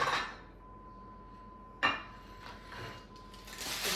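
Plate and dishes handled while serving roasted carrots with orange juice and dill, with a few sharp ceramic clinks and knocks, one at the start and another near two seconds, then softer clatter in a quiet kitchen.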